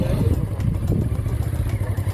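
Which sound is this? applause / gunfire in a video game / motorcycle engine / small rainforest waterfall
motorcycle engine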